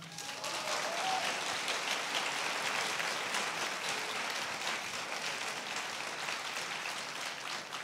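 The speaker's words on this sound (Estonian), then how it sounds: "Aplaus teile!" Audience applause in a hall at the opening of Tallinn University's VITA building, following a stage performance. A steady, dense wash of many hands clapping at a soft, distant level, continuing evenly throughout with no talking.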